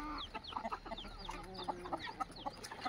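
Desi free-range chickens and aseel fowl cluck and chatter on a low-cost poultry farm, with many overlapping calls from several birds at close range and no talking.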